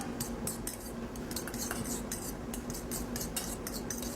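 Tuna tartare dressed with olive oil being mixed by a utensil in a bowl, giving a steady run of light clinks and wet scraping strokes close by, with no talking.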